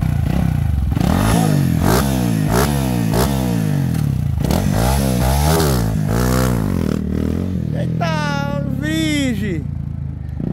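A Honda Fan 160 motorcycle fitted with a Hornet piston rides nearby, its engine revving up and down in repeated rising and falling surges with mechanical clatter. A voice is heard near the end.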